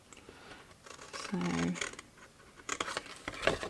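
Several crisp scissor snips cutting through material, close by, with scraping and rubbing sounds between the cuts.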